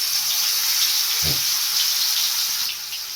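Fish pieces dropped into hot deep-frying oil give a steady, bright hissing sizzle that runs throughout, with a brief low thump as a piece goes in, no talking.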